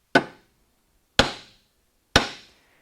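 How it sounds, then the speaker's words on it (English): Three sharp, evenly spaced hammer blows ring out as a punched metal plug is flattened on an anvil, each strike loud and close with a quick ringing decay and silence between. "Just hit it with a hammer"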